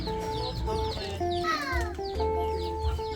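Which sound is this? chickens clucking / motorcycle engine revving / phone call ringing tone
chickens clucking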